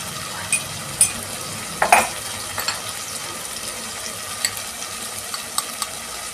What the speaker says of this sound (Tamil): நல்லா தக்காளி மேஷ் ஆகிற மாதிரி வதங்கணும்.